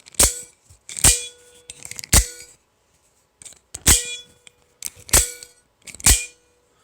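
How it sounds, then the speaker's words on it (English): A spring in an Atomic Defender Slim handle twangs loudly, six sharp metallic clangs with ringing tails, spaced about a second apart with brief gaps. "That twangy spring sound is crazy."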